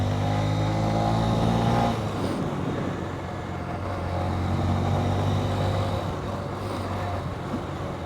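A Honda CB125F motorcycle fitted with a Yuminashi 120cc fuel injector being ridden, its engine note holding steady then dropping and rising again as it pulls through a gear, with a faint voice underneath.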